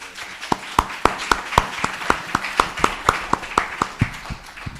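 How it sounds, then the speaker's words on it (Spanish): Audience applause welcoming a speaker at a talk comes as a steady, rhythmic series of sharp, fairly close claps, about three per second, with a faint crowd wash underneath and no talking. "Recibamos a nuestro ponente con un fuerte aplauso."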